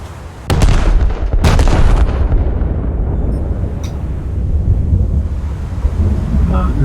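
Bombs dropped by an enemy aircraft explode in a naval combat video game, booming in two sharp broadband blasts early on, then a sustained loud rumble of blast noise and spray continuing throughout.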